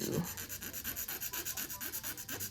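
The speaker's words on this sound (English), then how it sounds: "file it down at the free edge. And that way we got a nice coffin shape." A fingernail's free edge being shaped into a coffin shape with the 100-grit side of a Macart 100/180 nail file: quick, even rasping strokes repeating close up, about four per second.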